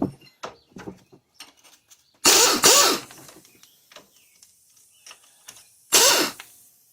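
A wrench works two 14mm bolts loose on a Kawasaki Brute Force ATV knuckle, with scattered metallic clicks and scrapes and two loud, harsh bursts of grinding ratchet noise, close and with quiet gaps between.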